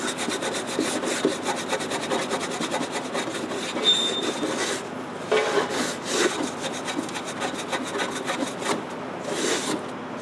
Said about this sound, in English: Just make sure your towel is soaked and just rub back and forth.